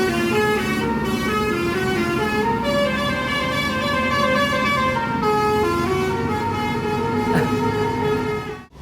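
A V63 intercity bus leaving a terminal in Padang Panjang, West Sumatra, sounds a long, loud multi-tone musical horn melody over its running engine, close and continuous for several seconds.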